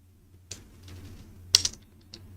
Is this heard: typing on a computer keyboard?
yes